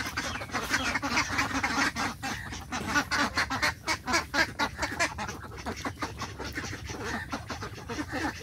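Ducks quack and honk in a noisy, overlapping chorus, a close flock calling continuously with rapid bursts throughout.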